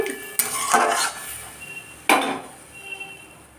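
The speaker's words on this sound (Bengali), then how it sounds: "খুব ভালো করে এটা কষিয়ে নেব" Food with salt and cumin powder being stirred and sautéed in a pot, with two loud metal spoon scrapes and clanks against the pot and a soft sizzle between them, close up.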